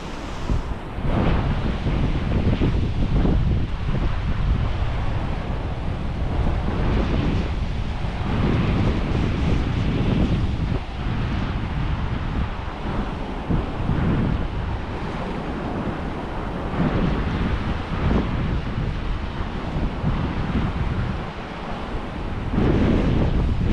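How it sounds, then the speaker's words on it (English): Steady wind blows hard at a South Carolina beach on Botany Bay Plantation, a continuous loud roar of gusts and buffeting against the microphone, mixed with surf washing in underneath, with no talking. "A little bit of a headwind."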